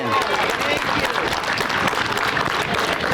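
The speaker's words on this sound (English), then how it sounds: "can we give them the enormous round of applause that they deserve when they do?" An audience applauds parks and recreation staff at the grand opening of a community center, steady and loud clapping with some crowd noise and a voice speaking over it.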